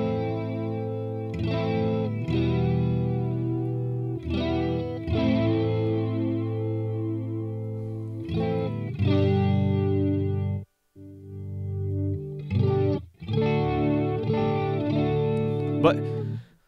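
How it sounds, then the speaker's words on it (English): An electric guitar through a Boss Katana MkII amplifier plays sustained chords through a sweeping, swirling flanger, strummed in several phrases with brief pauses between them. "But flanger sounds good if you got it."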